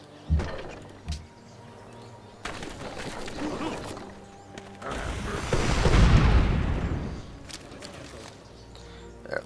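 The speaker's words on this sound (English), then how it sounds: "At least my cannons are able to do some damage." Cannon fire in the strategy game Civilization V, with a few scattered thumps early on before a swelling, rumbling barrage of booms that peaks near the middle and then fades.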